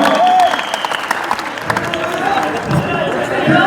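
Loud audience applause at a Mumbai Jat community 50th anniversary celebration, energetic close clapping from a crowd in bursts over under four seconds, with some voices and cheers mixed in.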